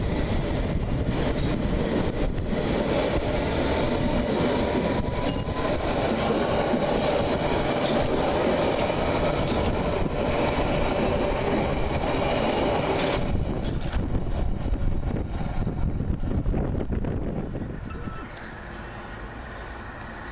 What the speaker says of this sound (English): Go the Met train to Watford.